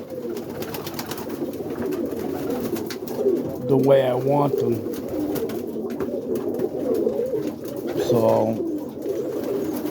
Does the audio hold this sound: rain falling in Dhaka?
no